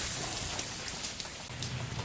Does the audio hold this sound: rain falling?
yes